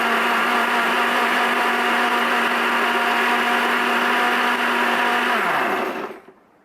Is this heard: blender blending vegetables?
yes